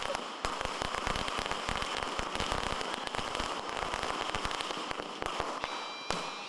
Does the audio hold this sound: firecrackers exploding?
yes